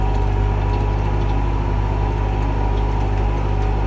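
A Massey Ferguson 5445 tractor's heavy common-rail diesel engine idles steadily and loudly nearby, a constant low rumble with no change in pace.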